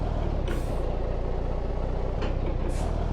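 A BMC truck engine from the Live for Speed driving game drones loudly and steadily throughout, a dense, close rumble with brief hissing surges.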